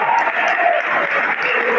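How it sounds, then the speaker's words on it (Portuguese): A church congregation applauds together in steady, sustained clapping that fills the room for the whole stretch, fairly loud with no clear pauses. "Vamos aplaudir o Senhor"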